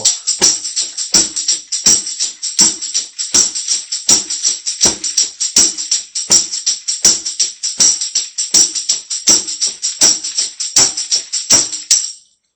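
A steady, brisk New Orleans second line drum groove of evenly spaced eighth-note hits, crisp and close, running continuously before stopping abruptly.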